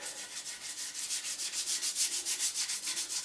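Rhythmic rubbing of 400 grit wet and dry sandpaper over a wood surface wet with Tru Oil, a steady back-and-forth scrubbing with even strokes, close and alone.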